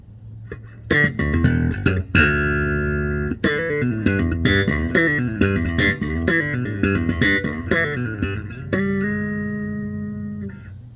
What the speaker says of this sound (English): This is what this bass sounds like.